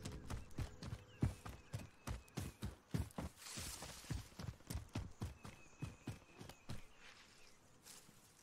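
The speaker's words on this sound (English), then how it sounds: "I heard footsteps." Footsteps in Call of Duty Warzone, a steady run of close, hard-surfaced thudding steps repeating at a quick walking pace for several seconds, with no talk over them.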